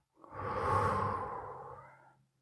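One long, slow, breathy exhale during a guided breathing exercise, close and soft, rising then fading over about two seconds, heard alone.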